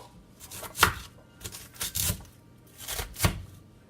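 A knife chops through a head of cabbage on a cutting board, cutting it into bite-sized pieces for a vegan Irish stew, with several separate crisp strokes spread unevenly over a few seconds and nobody talking.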